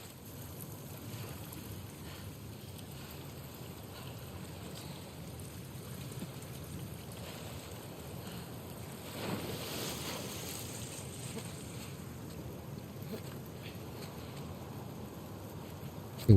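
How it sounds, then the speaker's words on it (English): A fast torrent of water rushes through a sewer in The Last of Us Part II, a broad steady roar that carries on unbroken, loud and enveloping, with a faint swell partway through. "the player was faced with a fast-flowing torrent of water they couldn't cross"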